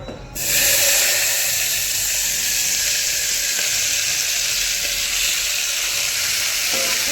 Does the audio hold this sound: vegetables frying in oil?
yes